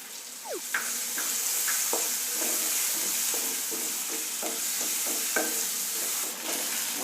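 Onions and curry leaves frying in a pan for a potato-buttermilk curry, a steady sizzle with repeated stirring clicks and scrapes of a spatula throughout, close and fairly loud, with no talking.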